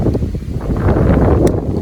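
Strong wind sweeps across a golf course during a windy matchplay round, buffeting the microphone with a steady, loud, rumbling roar that never lets up; no one speaks.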